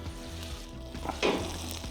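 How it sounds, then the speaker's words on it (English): Loud, steady sizzling of steaks frying in a hot cast iron pan, with a burst of intensified crackle partway through. "Oh yeah, feel the sizzle. Feel the sizzle."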